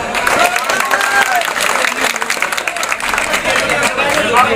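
A crowd at a street rally and human chain in Mirpur claps loudly and steadily, a dense close burst of applause mixed with cheering voices.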